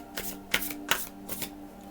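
Tarot cards shuffled in a few short riffling bursts, close and fairly quiet, with a steady low hum beneath.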